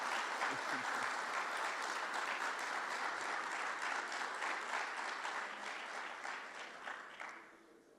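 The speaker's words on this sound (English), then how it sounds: "she deserves yet another round of applause for all the work she's done" An audience at a Dominican community gathering in Jamaica gives a round of applause for the ambassador: full, even clapping that carries on for several seconds, then thins and fades toward the end.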